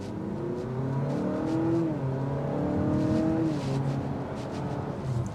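A 2025 Honda Civic Hybrid Sport pulling away in Sport mode, heard from inside as a steady engine drone rising and shifting pitch over a few seconds with road rumble beneath, no talking.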